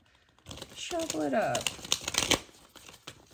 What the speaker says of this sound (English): I am gonna shuffle it up